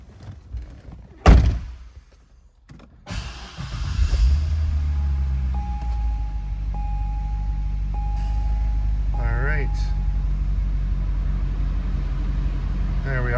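A 2009 Corvette convertible 3LT door shuts with a solid thunk, then the engine cranks and settles into a steady deep idle, with a few chimes sounding over the running motor.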